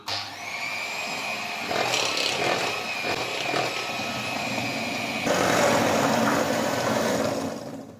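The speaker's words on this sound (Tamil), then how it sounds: "மிக்ஸ் பண்ணியாச்சு இப்போ வந்து நம்ம பீட் பண்ணிக்கலாம்" An electric beater whirs steadily through poovadai batter, a loud, continuous motor whine with gritty churning that grows louder and harsher late on, then stops, with no talking.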